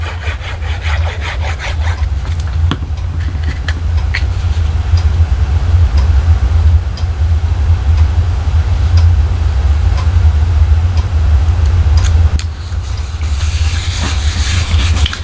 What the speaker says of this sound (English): I like to give my glue a nice little pat down rub it down, make sure everything is adhering like it should.